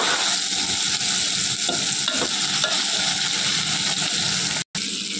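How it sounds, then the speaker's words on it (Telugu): Brinjals fry in a generous amount of oil in a pan, making a loud, steady sizzle that goes on without a break and drops out briefly near the end. "వంకాయలు కూడా బాగా వేగిపోయాయండి"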